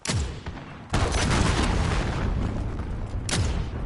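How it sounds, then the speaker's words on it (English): Cruise missile strike in Call of Duty Warzone, a loud booming explosion after a sharp initial blast, with rumbling debris and a second heavy impact near the end, no talking. "Enemy cruise missile."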